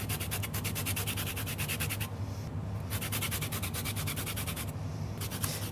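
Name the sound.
grating lemon peel on fine side of grater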